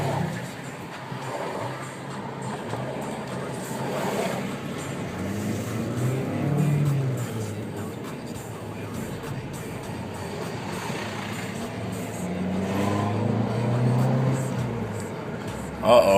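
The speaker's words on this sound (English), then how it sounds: "It really sounds like a Fiat engine now." A turbocharged 2013 Dodge Dart Rallye engine runs steadily throughout with low rumbling swells and rises in revs, while people talk over it inside the car.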